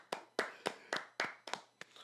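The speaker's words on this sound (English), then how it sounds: "Another clap." Eight sharp hand claps in an even, fairly quick rhythm, crisp and close with brief decay between each.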